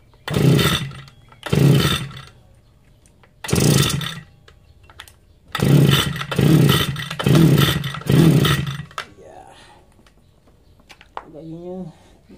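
A grass cutter's small engine fires in short, loud bursts after a spark plug check, catching for about a second at a time before cutting out, with a few brief pauses and quieter handling noise toward the end.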